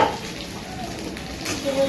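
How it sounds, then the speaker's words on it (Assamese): Capsicum and potato sizzle while being fried for a lunchtime dish, a brief, steady, close crackle of frying. "আজি দুপৰীয়া বনাম কেপচিকাম আলু ভাজি"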